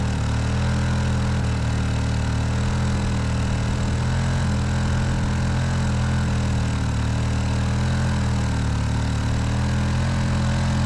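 A Honda EU1000i inverter generator runs steadily under load, with a constant, loud, even engine drone and no variation or pauses.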